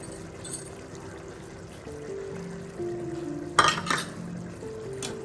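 A dissolved mixture is poured into a pan of tomato halwa, a steady liquid pour with a few light clinks of utensils against the pan. A sharper scrape comes near the end.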